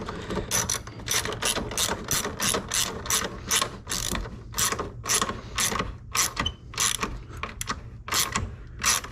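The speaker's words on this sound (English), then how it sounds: "I like doing everything with ratchets so I can feel what I'm doing, not just breaking things." A hand ratchet tightens the bolts of a tow mirror being fitted to a Silverado, giving a long run of rapid, evenly spaced clicks that come close and loud with short pauses between strokes.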